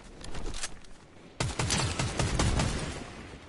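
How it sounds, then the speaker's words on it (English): Video game gunfire while sniping in Fortnite: crackling shots early, a brief lull, then a sharp loud volley with rapid repeated shots continuing to the end. "I sniped him and shot him."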